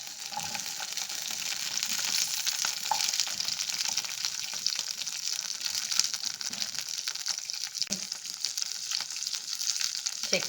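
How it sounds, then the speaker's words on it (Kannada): Onion frying in hot oil after green chillies for a cauliflower, peas and potato semi-gravy, a steady crackling sizzle with occasional soft stirring knocks, moderately quiet throughout. "ಈಗ ಈರುಳ್ಳಿ ಹಾಕ್ಕೊಳ್ತೀನಿ"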